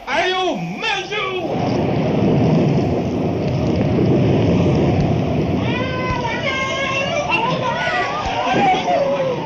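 A staged thunderstorm effect in a children's play: a steady broadband rumble and roar like wind and thunder runs the whole time, loud and continuous beneath excited voices speaking and calling out.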